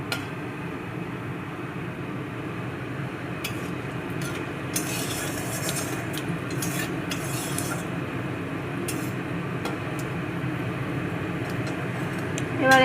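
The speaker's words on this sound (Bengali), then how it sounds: "এই যে দিলাম দুটো তেজপাতা, কটা জিরে, একটা শুকনো লঙ্কা, এলাচ" Whole spices stirred in a hot pan for chicken kosha: bay leaves, cumin, a dried chilli and cardamom, with a steady low sizzle under scattered metal spoon clinks against the pan, close and moderately loud.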